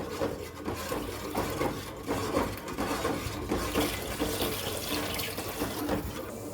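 Water pours steadily into a cooking pot while making kuska biryani, a continuous splashing rush with a few faint knocks, close and fairly loud.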